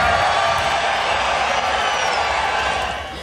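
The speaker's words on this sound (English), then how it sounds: "Just listen to that cheer. The American fans have come out here in Miami." A large crowd of American fans roars and cheers at the Miami F1 Grand Prix, a loud, dense wash of sound that holds steady and then begins to fade.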